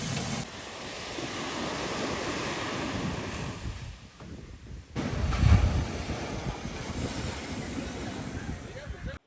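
Sea waves wash steadily at a beachside restaurant, a continuous rushing surf mixed with wind noise on the microphone, swelling louder about halfway through.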